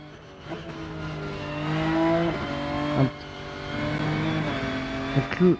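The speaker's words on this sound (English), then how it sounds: "So now I'm in the BMW around Hockenheim, which uses the Fanatec steering wheel." BMW race car lapping Hockenheim in the Rennsport racing game, played on a Fanatec steering wheel: a steady engine drone rising and falling through gear changes, with sharp revving bursts and short shifts, heard alone without talk.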